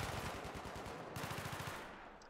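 Rapid automatic gunfire rattles in Battlefield 3, a dense machine-gun burst of fast, even shots that continues through the short stretch, loud and close with no speech.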